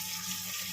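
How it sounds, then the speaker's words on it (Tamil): Water pouring into a pot of Tamil drumstick-leaf (murungai keerai) curry after sautéing, a steady close splashing stream that fills the short moment on its own. "நம்ம தேவையான அளவுக்கு தண்ணி ஊற்றிக்கணும்"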